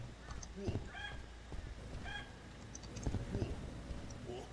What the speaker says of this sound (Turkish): İçeride kuş mu var az önce?